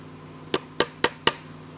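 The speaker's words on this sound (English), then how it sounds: "We need to take a punch and put little dents there so that the drill doesn't drift off course." Four sharp metallic taps in quick succession, evenly spaced, a center punch denting marked screw locations on a Fender bass for a tuner install, close and clear over a faint hum.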